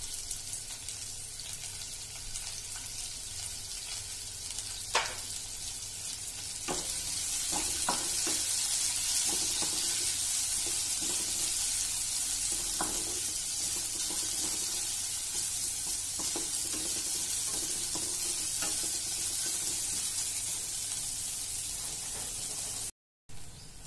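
Onion sautés in a little oil, a soft steady sizzle that grows louder after a few seconds, with scattered stirring clicks and scrapes throughout and no talking.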